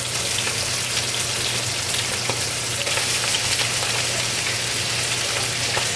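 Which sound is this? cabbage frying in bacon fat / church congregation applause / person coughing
cabbage frying in bacon fat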